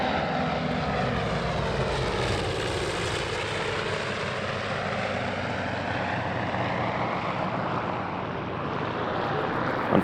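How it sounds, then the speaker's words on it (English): A twin-engine World War II–era naval fighter from 1944 flies past at the Oshkosh AirVenture airshow, its steady propeller drone filling the air with a sweeping rise and fall in pitch as it passes. "This twin-engine naval fighter entered service in 1944"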